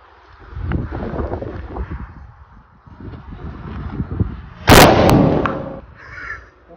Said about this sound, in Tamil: இப்ப நம்ம அக்னி பாம் எப்படி இருக்கு வெடிச்சு பாத்துடலாம்